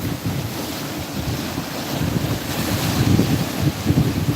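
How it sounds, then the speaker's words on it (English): Rough sea waves rolling in and breaking on rocks, a loud continuous roar and wash with foamy surges building toward the end, whipped by strong wind buffeting the microphone, no voices. "look at these waves coming in"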